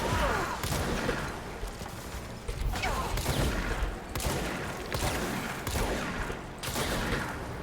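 Rapid bursts of gunfire from the video game Control crackle in repeated volleys with mechanical clatter, fairly loud and continuous, with no talk over them.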